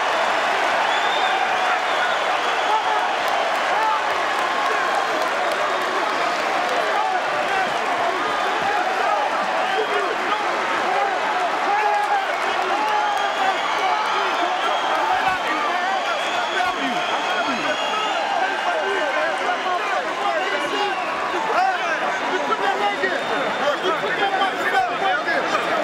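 A boxing arena crowd roars after a knockout in a Floyd Mayweather Jr. fight against Phillip N'dou, a sustained loud wall of cheering and clapping with a steady crowd roar throughout.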